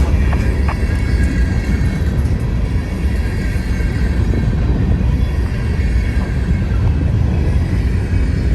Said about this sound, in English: Looks like an empty grain train.